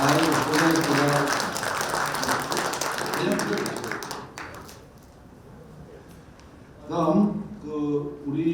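Audience applause at a school centennial ceremony in a hall, loud sustained clapping over crowd noise that tapers off, followed by people talking nearby.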